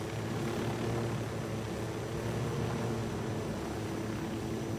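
A helicopter flies in the video game Ghost Recon Wildlands, a steady, dense rotor-and-engine drone that holds a constant loud level throughout, with no talk over it.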